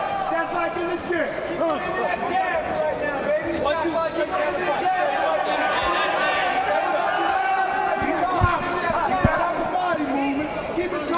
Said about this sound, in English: And this crowd's thoroughly getting into this.